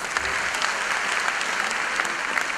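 A crowd at a school rentrée ceremony applauds steadily, a dense and even clatter of many hands clapping with no voices over it.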